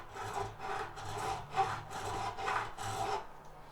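A cloth or pad is rubbed across the wooden fretboard of an S12 guitar during cleaning, about six rhythmic scratchy swipes in close succession, close up and fairly quiet.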